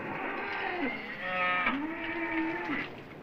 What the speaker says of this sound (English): The cattle are getting restless.